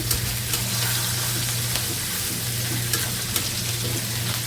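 A fish head and onions fry in hot oil, giving a loud steady sizzle with occasional stirring scrapes and a constant low hum, no talk.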